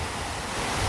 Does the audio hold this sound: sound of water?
yes